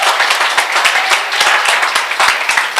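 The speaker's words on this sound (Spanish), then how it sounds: "Aplauda al Señor." A church congregation claps together in worship, giving a dense, loud, continuous patter of many hands that carries through the whole stretch, with no talking.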